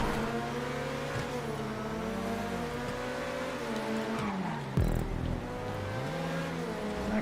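A Coquette D10 sports car races in GTA 5, its engine note rising and falling steadily through repeated gear shifts, with a brief loud burst near the end.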